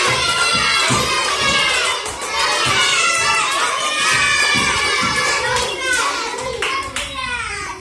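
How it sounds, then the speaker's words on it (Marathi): A group of schoolchildren claps steadily and rapidly during a game activity at a school fair, loud and close, with shouting and excited voices throughout. "बाकीच्यांनी टाळ्या तरी वाजवायच्यात"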